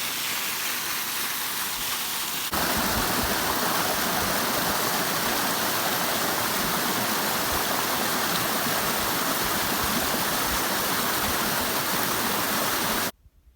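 Obsidian Falls rushes and pours down on the Three Sisters stretch of the PCT, a dense, loud, steady roar of falling water close by that swells suddenly after a few seconds and cuts off at the end.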